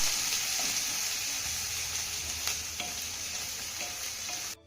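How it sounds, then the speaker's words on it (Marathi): Chopped spring onions, ginger and garlic sizzle steadily in a hot pan, with occasional scrapes and clinks of stirring and a sudden stop at the end. "आता हा घातलेला कांदा आपल्याला चांगला मिक्स करून घ्यायचा आहे"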